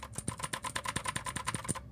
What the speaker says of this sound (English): You can type whatever you want here